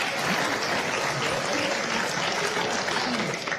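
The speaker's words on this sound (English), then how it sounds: "Thanks for the applause." Studio audience at a daytime talk show applauding, a sustained, dense wash of clapping at even volume throughout with no clear talk over it.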